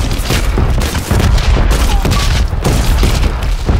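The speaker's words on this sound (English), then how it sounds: "We got explosions." Dense, continuous rumbling booms and blasts with scattered gunfire-like cracks in the video game Hitman, loud throughout with no pauses.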